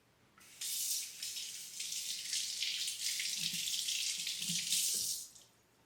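Tap water running into a kitchen sink while washing up, a steady bright hiss that starts abruptly, carries on for several seconds with faint clatter underneath, then cuts off, with no talking.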